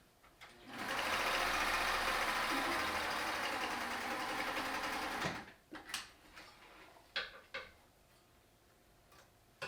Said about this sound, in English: We can sew up, we can top stitch along this bottom edge here.